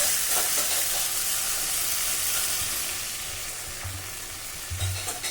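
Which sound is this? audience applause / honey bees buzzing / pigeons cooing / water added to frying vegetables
water added to frying vegetables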